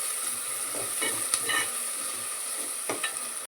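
Ginger garlic paste frying in a pan for goat head curry, a steady sizzle with occasional spatula scrapes and stirs, close and fairly quiet, no talking.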